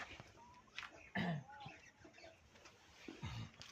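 Faint clucking from a few chickens, a couple of short louder clucks standing out over quiet farmyard background.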